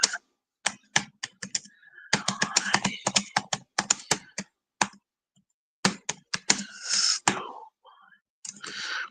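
Rapid bursts of loud keyboard typing in uneven clusters, with short pauses between flurries of clattering keystrokes.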